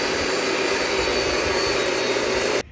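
A small abrasive chop saw cuts through steel plate with a loud, continuous grinding roar that holds steady up close, then cuts off abruptly at the end.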